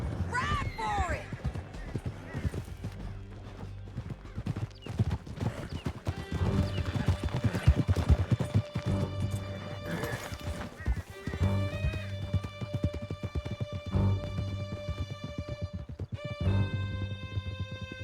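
Horses gallop in Red Dead Redemption 2 with fast rhythmic hoofbeats clattering over rough ground, an occasional whinny and a tonal musical score playing over the riding.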